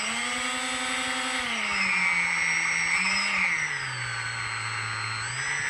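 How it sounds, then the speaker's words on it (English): The electric motors of an FT Super Bee RC plane whine steadily and close by, their pitch sliding down and back up as they run together, loud and continuous with no voices. "the motors are firing up just fine. And then both together."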